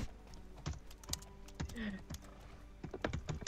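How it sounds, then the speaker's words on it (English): Rapid, uneven keystrokes clatter on a computer keyboard in bursts of hard, forceful taps with short pauses between, close and dry with no talking. "Angry typing"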